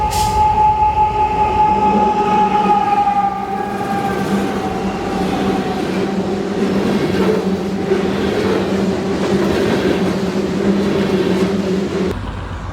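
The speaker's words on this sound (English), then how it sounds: "this will be the second time I will capture Union Pacific 1996, the Southern Pacific Heritage Unit" A Union Pacific freight train with the Southern Pacific Heritage Unit 1996 rumbles past in Texas, loud and close, with sustained horn-like tones at the start fading into steady heavy wheel and engine roar that cuts off near the end.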